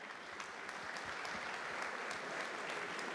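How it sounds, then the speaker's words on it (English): Audience applause for Bitcoiners at a Bitcoin conference panel, a steady, dense wash of many hands clapping that runs for the full stretch at moderate distance, with no voices over it. "an applause for all the Bitcoiners who were there for 10 years"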